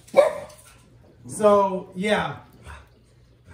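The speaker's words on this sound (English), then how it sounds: "I am so sorry that my dog is barking" A dog barks twice, close and loud, with brief speech at the start.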